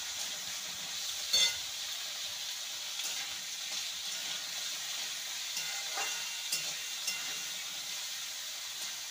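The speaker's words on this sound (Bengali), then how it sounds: "সবজিগুলোকে একটু মিনিট দিয়ে ভেজে নেব" Vegetables for sago khichdi fry in a pan, giving a soft, even sizzle with occasional stirring knocks and scrapes throughout.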